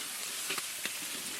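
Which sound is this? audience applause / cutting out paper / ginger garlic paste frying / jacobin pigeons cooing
ginger garlic paste frying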